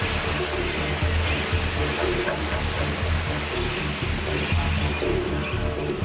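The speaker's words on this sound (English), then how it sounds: "But thirsty budgerigars give them a run for their money." A flock of thirsty wild budgerigars gathered at water, with continuous chirping and twittering mixed with cooing-like calls over a steady wash of background noise.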